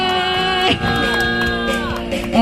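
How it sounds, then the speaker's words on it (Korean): A crowd at a street rally cheers and shouts, loud sustained whoops and yells from many voices close by, with music or tonal sound running underneath. "오늘도 역시 함성 소리가 저를 기쁘게 하네요."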